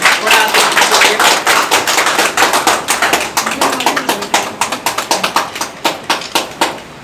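Applause at a gathering of journalists from Nepal and India: a crowd claps loudly and steadily, the claps settling into a more distinct, rhythmic pattern toward the end.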